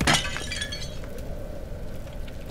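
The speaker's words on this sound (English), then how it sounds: "Smashing pots." Pots smashing in the horror video game Amnesia: The Dark Descent: one loud shattering crash at the start, then scattered clinking debris fading under a low steady room hum.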